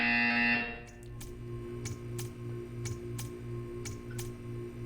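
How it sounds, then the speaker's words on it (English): In the game Portal 2, a tone fades out, then a repeating mechanical buzzer pulses in short regular bursts about every half second over a low hum, quiet and steady. "You will hear a buzzer. When you hear the buzzer, stare at the art."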